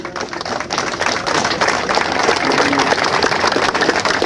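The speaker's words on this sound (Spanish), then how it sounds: "Palmas para el hermano de mi padre" Clapping for Guillermo, the speaker's uncle, at a crowded farewell gathering for the master Aurelio Huaccha Miranda: dense, steady applause from many hands that carries on unbroken throughout.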